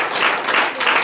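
A church congregation applauds the Holy Spirit during a service, a loud, dense wash of clapping from many hands that fills the whole short moment with no pause.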